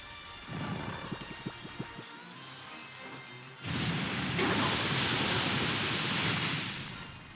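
Sandsear Storm attack in Pokemon Scarlet/Violet, a low roaring rush like a storm that starts with crackling bursts, then swells suddenly into a loud, steady, windy, rain-like wash that slowly fades.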